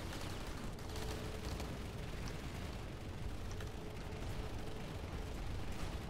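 Video game gunfire crackles in dense, continuous bursts at low volume, a steady rattle of distant shots with no clear pauses.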